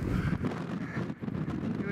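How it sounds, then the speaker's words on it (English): Heavy gusting wind on a hilltop in the Cheviot Hills buffets the microphone in a loud, constant roar, with a voice speaking over it. "as you can hear, the wind is horrible"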